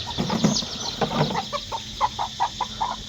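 Chickens clucking nearby, a series of short, evenly spaced clucks after a brief burst of louder fowl calls, with a faint background hiss.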